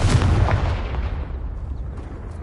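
A Confringo fire spell explodes in Hogwarts Legacy, a loud booming blast up close that rolls off into a fading rumble.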